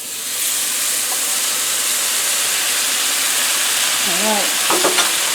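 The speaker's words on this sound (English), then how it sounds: "And we're going to pour this into the pan. You'll hear the sizzle." Chipotle salsa sizzles and fries in a hot pan for fajitas, a close, continuous hissing crackle, with a brief stir and a short spoken word near the end.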